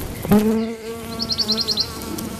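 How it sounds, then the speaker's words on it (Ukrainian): A close, steady buzz of insects with a low droning hum, plus a quick series of faint high chirps partway through. "Чуєте, як працюють бджоли?"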